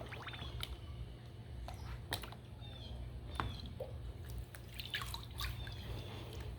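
Water splashing and dripping in a gold pan as fine material is swirled by hand, soft irregular trickles and drips close by against a steady low hum, with no talking.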